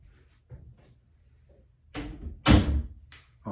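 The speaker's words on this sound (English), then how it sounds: "can you close the door?" A door is shut indoors in a quiet bathroom, giving a couple of soft thuds and then one louder, close knock near the end, with small handling noises in between.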